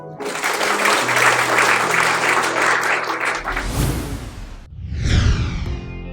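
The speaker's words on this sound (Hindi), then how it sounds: "जोरदार ताली बजाएं।" Loud, close applause from an audience at a cultural evening for police personnel, a dense wash of clapping that breaks off abruptly, followed by brief whooshing noises.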